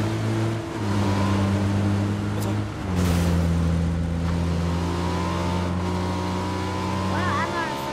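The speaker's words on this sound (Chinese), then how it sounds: "开去，坐摩托车去。" A motorcycle engine in the PUBG video game drones loud and steady, then revs and shifts pitch as it accelerates, running continuously in the foreground.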